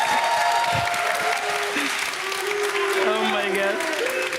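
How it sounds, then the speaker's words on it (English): A large crowd at an LEC League of Legends esports event applauds steadily, a dense continuous wash of clapping and cheering that holds loud throughout while a voice speaks over it. "thank you all for cheering for us"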